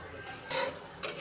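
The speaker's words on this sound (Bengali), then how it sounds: "এখন আমি মশলাটা সুন্দর করে কষিয়ে নেব" A utensil stirs and fries a ginger-garlic spice paste in a pan for a Bengali pabda fish dish, giving a soft scraping stir with a faint sizzle and a brief louder scrape near the end.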